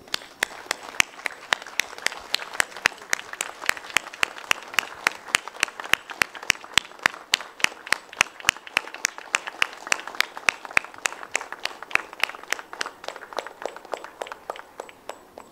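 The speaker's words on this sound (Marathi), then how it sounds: "मला वाटतं सगळ्यांनी आपण उभं राहून नागपूरकरांसाठी जोरदार टाळ्या वाजवूयात" An audience at a closing ceremony stands and claps for the people of Nagpur, a steady run of sharp, evenly spaced claps, close and fairly loud, with no voices over it.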